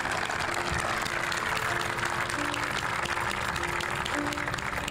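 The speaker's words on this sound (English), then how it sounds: "Let's give a special round of applause to Randy Phillips and Bill Moore" Sustained, dense applause from an audience at a 50th anniversary memorial dedication ceremony, a loud continuous wash of many hands clapping that holds steady throughout, with a faint low hum underneath.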